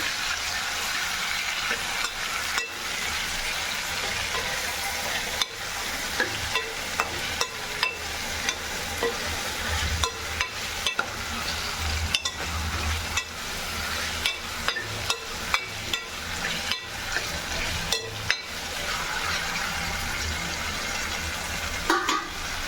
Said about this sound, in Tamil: வெங்காயம் வந்து நல்லா பொன்னிறமாக பொரிஞ்சு வந்துச்சு இப்போ வந்து தக்காளியை வந்து இதோட சேர்த்துக்கலாம்